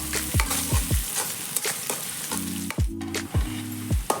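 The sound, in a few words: onions frying until brown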